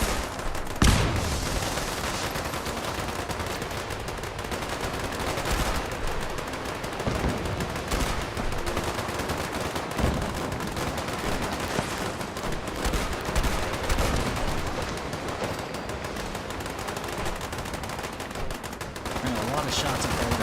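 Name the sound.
gunshots in the video game Fallout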